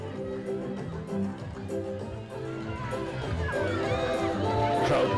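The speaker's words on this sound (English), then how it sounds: "crowd loving every bit of the game." Crowd noise at the Skipper Cup rugby final in Suva, Suva versus Nadroga, on a warm afternoon: a continuous murmur and swell of many voices, rising toward the end, with a commentator talking over it.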